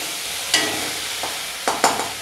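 Tomato, black cumin and coriander stirred in hot oil, a steady sizzle broken by a few scraping spoon strokes, close and alone.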